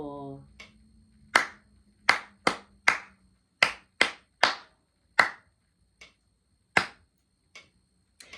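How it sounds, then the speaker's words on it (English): Hands clap a rhythm from a Vivaldi Winter violin part, about a dozen sharp claps at uneven spacing. A brief voice and hum come at the start, then the claps ring out alone with short decays. "So let's clap from bar 4."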